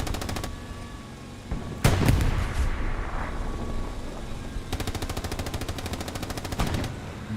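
Rocket strikes thunder across a Hell Let Loose battlefield, with a heavy blast near the two-second mark followed by a long, loud spell of rapid automatic gunfire and distant rumbling, with no voices over it.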